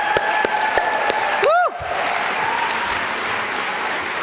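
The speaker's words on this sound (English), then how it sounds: "Let's give a round of applause to Fodi Bangura and Dunia Drum and Dance for opening the celebration tonight" Audience applause at the 2012 Ambassador Awards celebration for opening drum and dance performers: continuous crowd clapping with a single loud whoop cutting through near the middle, then applause carrying on at an even level.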